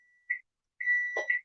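A kitchen timer signals that bacon is done, giving a short electronic beep and then a longer beep, clear and close. A brief clatter from the cooking comes in near the end.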